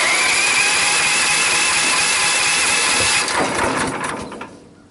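A Big Bear Power Log Hog log splitter with a running engine gives a loud, steady mechanical roar, then a rougher burst as the starter is worked before the sound drops away at the end.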